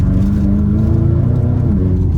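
BMW M5 G90 engine idling or running steadily, a deep low rumble with a constant hum, close and loud throughout, no voices.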